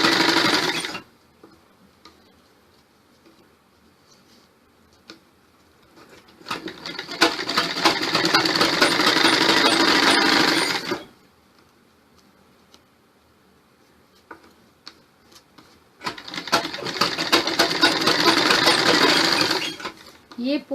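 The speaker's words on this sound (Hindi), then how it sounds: "बाकी सारा कपड़ा बुकरम के ऊपर डाल के सिल दो" A close sewing machine stitches salwar fabric onto stiff buckram in two long, loud runs of steady rapid rattling, each lasting about four seconds and separated by quiet pauses with faint handling sounds.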